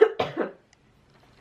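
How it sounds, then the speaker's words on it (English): A person coughing, two or three harsh coughs in quick succession, close and loud, followed by near silence. "I feel like I still need to get a cough out"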